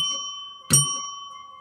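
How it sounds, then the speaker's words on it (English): A bell is struck once, a sharp bright ding that rings on with a steady sustained tone, heard close and alone without talk. "So you want to hit the bell"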